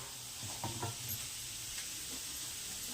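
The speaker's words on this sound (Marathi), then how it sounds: "कांदा, कढीपत्ता आणि शेंगदाणे भाजून घेते सगळे मस्तपैकी" Onion, curry leaves and peanuts frying in a pan for poha, a soft steady sizzle with a few brief stirring scrapes near the start, quiet and close with no talking.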